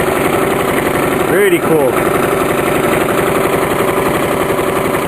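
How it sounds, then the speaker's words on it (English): Lawn mower engine fitted with a custom muffler idles steadily and loudly up close, a rapid even throb with a brief voice speaking over it partway through. "The engine makes more noise than the exhaust itself."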